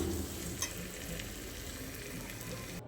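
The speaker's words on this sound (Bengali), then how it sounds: "এবার আমি চিকেনটা দিয়ে চিকেনটাকে কষাবো।" Pre-fried chicken pieces are stirred in a spice masala that has released its oil. A continuous low sizzle and hiss with a faint scrape runs evenly from start to end, with no voice.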